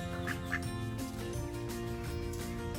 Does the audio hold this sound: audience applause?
no